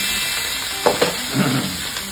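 Broccoli stir-frying in oil in a wok, a steady loud sizzle and hiss with a few brief clinks and scrapes of stirring, no talk.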